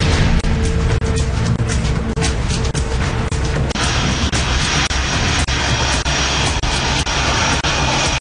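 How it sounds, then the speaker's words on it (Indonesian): A loud, constant roar of NATO fighter jet engines during a large European air combat exercise fills the whole stretch, heavy and close with a slight pulsing texture. "Pesawat NATO akan bergabung bersama armada udara dalam latihan pesawat tempur terbesar di Eropa."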